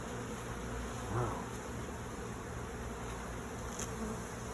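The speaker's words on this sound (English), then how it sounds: "Supposed to about 500 bees." Swarm of bees buzzing continuously at a beehive, a dense steady drone with a few closer individual passes.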